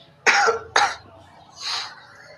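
A man coughing during a church sermon: two sharp, close coughs in quick succession, followed by a softer throat-clearing rasp, with no speech over them.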